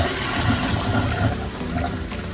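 Running water pours and splashes steadily as cooked basmati rice is strained, a continuous rushing wash with gurgling texture, fairly close.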